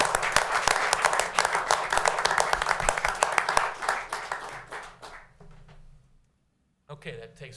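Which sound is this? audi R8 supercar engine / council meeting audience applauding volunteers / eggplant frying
council meeting audience applauding volunteers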